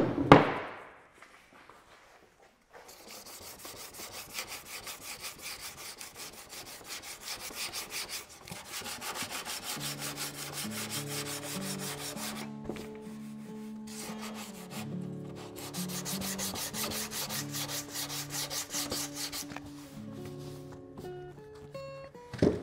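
Dry, steady rasping of an 80 grit file worked across a metal body panel during dent repair, running continuously after an opening knock and pause, with a faint ringing hum underneath.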